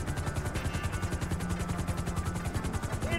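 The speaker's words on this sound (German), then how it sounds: "Ich sitze im Heli!" Helicopter in the GTA video game: a steady, loud, rapid rotor chop with a constant engine drone, heard up close throughout with no talking.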